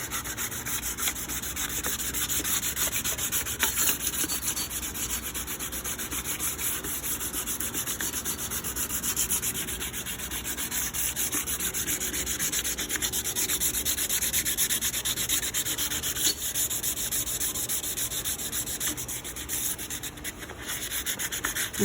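Fine 300 to 400 grit sandpaper rubbing over an aluminum cylinder head during a head gasket repair on a T1N Sprinter engine, a steady close scratchy hiss that runs on without pause.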